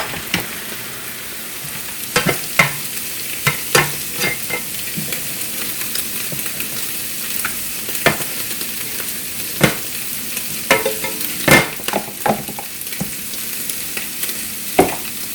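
Sliced mushrooms and chopped onion sizzle steadily in a hot pan, with repeated scraping and clacking of a utensil stirring them through the continuous frying hiss.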